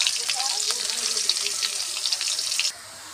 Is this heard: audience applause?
no